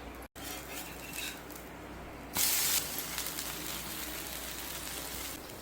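Millet and bottle gourd dosa batter frying on a hot griddle with a little oil drizzled on top, giving a steady close hiss with a brief louder sizzle burst partway through.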